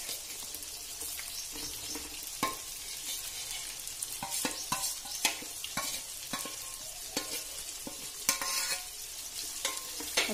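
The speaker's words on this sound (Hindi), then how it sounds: "बैगन को हमने मसाला भरकर इसमें डाल दिया है ऑयल में। अब हम अच्छी तरह से इसको ऑयल में पकने देंगे तेल छूटने तक।" Masala-stuffed eggplant fries in oil over a fire, giving a steady hissing sizzle broken by scattered clinks and scrapes from stirring, close and continuous without talk.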